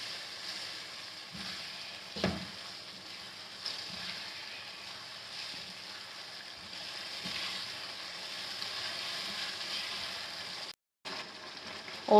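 Garlic rice sizzles steadily in a pan as it is stirred, with a faint, continuous frying hiss and a few soft scraping knocks of the spoon.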